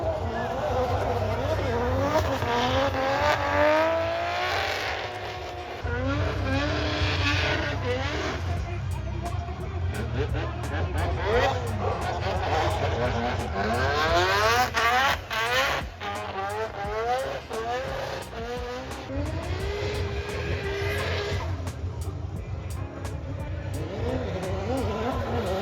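Cars drift around turns 4, 5 and 6 of a wet race track at a drift show, one of them a GR86 that appears to carry a 2JZ engine. Engines roar and rev steadily over a continuous wash of track and crowd noise.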